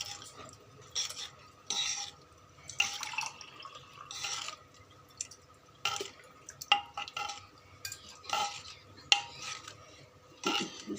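A spoon stirs sambar rice in a pot in repeated bursts of wet scraping and clinking, close and moderately loud, with short quiet gaps between strokes.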